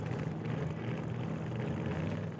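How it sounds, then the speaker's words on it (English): A hydroplane's engines roar in a steady, loud, dense drone with a low rumbling hum underneath, holding level for the whole stretch with no speech. "hydroplane revs up into turbo mode"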